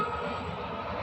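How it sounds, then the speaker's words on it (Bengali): A train rolls past close by, a steady dense broadband rumble with low rail noise running without a break, no voices over it. "আমার এখান থেকে এত ট্রেন যায় যে কি বলবো,"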